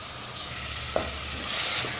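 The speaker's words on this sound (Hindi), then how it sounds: "2 से 3 मिनट के लिए इसे मैंने हाई फ्लेम पे भून लिया था।" Chicken masala fries on a high flame, a steady close sizzle with a soft stirring scrape near the middle and no voices.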